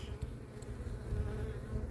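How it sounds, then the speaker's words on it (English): Close, steady buzzing of many honeybees around a hive frame, a continuous low hum with no voices. "The bees are active."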